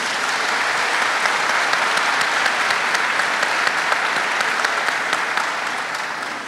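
A church audience at a marriage sermon breaks into loud, sustained applause that fills the room evenly and tapers slightly near the end.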